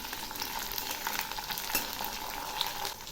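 Tomato and slit green chillies sizzle steadily in a hot pan for a Bengali cabbage dish, with soft scraping stirs heard close up through the frying hiss.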